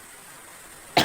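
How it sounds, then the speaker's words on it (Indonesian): A person coughs once, a sharp loud burst at the very end after a stretch of quiet outdoor background hiss near a waterfall. "jadi batuk-batuk ini"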